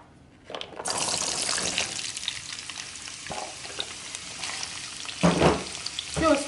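Carrots tipped into hot oil for frying, a sudden burst of sizzling after a quiet start that holds as a steady crackle, with louder stirring and clattering bursts toward the end.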